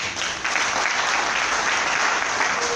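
Dense, steady applause from a large audience at a PDCI-RDA candidate's political campaign launch in Yopougon, continuous and fairly loud throughout with no talk over it.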